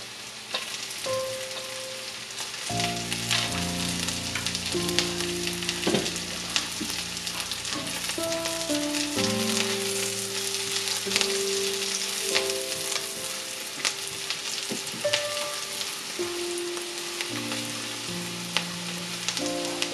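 Chopped garlic and green chili fry in oil for a Bangladeshi tomato vhorta, a steady close sizzle running throughout with occasional stirring clatter and some tonal background sound layered over it.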